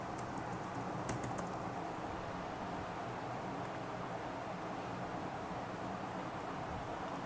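A password is typed on a computer keyboard, a short burst of key clicks at the start followed by a steady background hiss.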